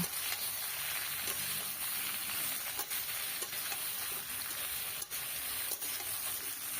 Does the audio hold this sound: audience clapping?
no